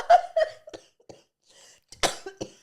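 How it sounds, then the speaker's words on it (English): A woman breaks into a coughing fit: a quick run of sharp, close coughs, a short pause, then a harder burst of coughing. "she's got a coughing fit"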